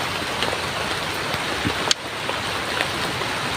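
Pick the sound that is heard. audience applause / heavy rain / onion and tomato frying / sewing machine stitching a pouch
heavy rain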